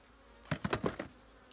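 Short burst of close buzzing honey bee wings at a hive, several quick pulses in about a second, standing out against a quiet background.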